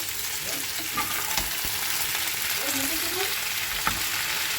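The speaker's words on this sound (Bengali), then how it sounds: "দেবো পেঁয়াজ কুলিগুলো সুন্দর করে ভেজে দেবো পেঁয়াজ কুলিগুলো" Onion stalks fry in a pan alongside potatoes that are already browning, giving a steady, loud, close sizzle with occasional stirring scrapes and no talking.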